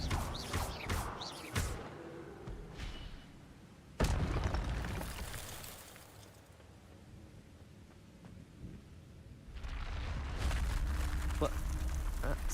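Incendio fire spell blasts in Hogwarts Legacy, booming whooshes and crackling bursts, one strong hit in the middle and a rumbling swell later, mixed with other spell effects.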